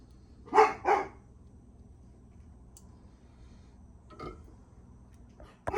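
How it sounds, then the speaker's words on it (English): Two quick, loud dog barks close by, followed by a fainter bark a few seconds later and a last short yip at the end, with quiet room tone in between. "The dogs were losing their minds"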